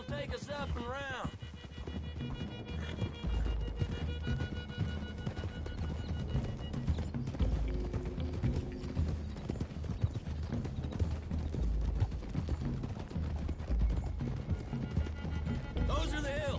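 Horses galloping over open ground toward hills in Red Dead Redemption 2, a busy rhythmic clip-clop of several sets of hooves, steady and close, with whinnies, game music and a voice talking over it.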